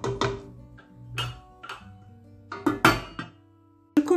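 A lid set onto a pot of cooking peas with chicken meatballs, heard as several sharp metallic clinks and clatters, near and fairly loud, separated by brief quiet gaps.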